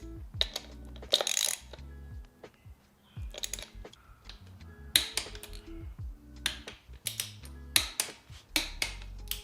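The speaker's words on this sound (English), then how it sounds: "torquing down the front end now that the wheel is on the ground" Ratchet wrench torquing down the front end of an Indian Chief motorcycle, a 2022 rebuild: repeated bursts of fast, sharp clicking, close and fairly loud, separated by short pauses, with no talking.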